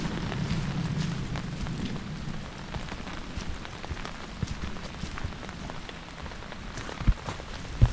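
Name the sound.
heavy rain falling on a steep mountain trail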